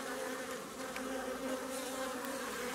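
Honeybees buzz at a hive entrance, a steady close drone of many wings with a few individual bees passing, unbroken over a few seconds.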